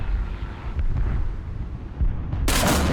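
Panzer IV/70 tank gunfire and a bomb explosion in a video game: steady low battlefield rumble and wind-like noise, then a loud, bright blast near the end that stays strong.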